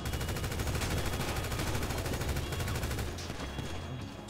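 Rapid gunfire in the video game GTA 5, a dense, continuous burst of shots that fills the first three seconds at close range before tapering to a quieter tail, with no talk over it.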